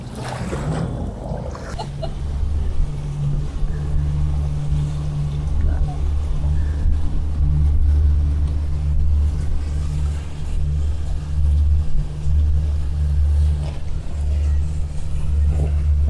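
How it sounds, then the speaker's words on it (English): A water taxi boat's engine drones as the boat approaches across open water, a steady low hum that starts just after a faint splash and stays loud, with a voice speaking over it. "And here comes our water taxi."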